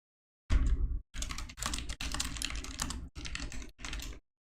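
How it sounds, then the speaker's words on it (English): Fingers type in rapid bursts on a computer keyboard, close and crisp, with short pauses between the clattering runs of keystrokes. "Keyboard over here."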